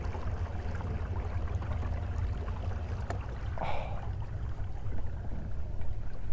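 Kayak pushed along by a DIY electric trolling motor, a low steady hum and water rush running throughout, with a brief splash partway through and no talk.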